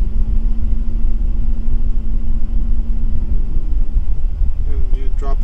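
Car engine rumbling steadily up close as the driver accelerates during a fuel pressure check, with heavy low droning throughout and a rising tone creeping in near the end.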